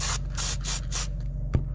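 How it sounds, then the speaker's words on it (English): Short bursts of aerosol spray into the inside of a 1999–2004 Ford Super Duty F250/F350 axle tube during an axle seal install, several hissing pulses in a row followed by a single sharp knock, close and loud. "we're going to spray a little bit"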